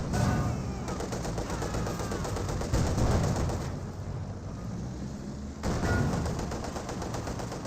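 Gun bursts in Company of Heroes 2: rapid, loud automatic fire in stuttering bursts, thinning into a quieter rumble midway before another burst starts up, all close and without talk.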